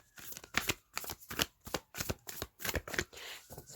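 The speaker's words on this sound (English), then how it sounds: "I'm going to shuffle one more time." Tarot cards being shuffled by hand, a rapid series of close riffling, flicking bursts in an uneven rhythm, with no talking.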